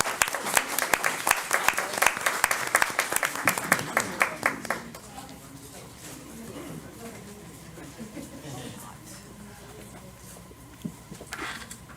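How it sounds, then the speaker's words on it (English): An audience at a county board of education meeting claps loudly for several seconds, then the applause thins out and a room murmur with scattered sounds remains. "Let's give them all a big round of applause."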